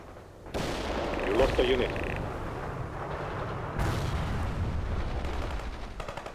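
Enemy fire rumbles through a World in Conflict battle, with booming, dense gunfire and explosions swelling and falling, while a radio-style voice speaks over the fighting.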